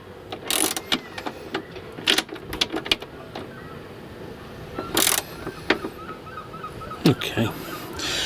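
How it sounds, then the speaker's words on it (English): A swivel seat is being bolted down inside a Vauxhall Vivaro van: short, sharp mechanical bursts and clicks come in irregular clusters over a quiet, roomy background. "let's get everything bolted down"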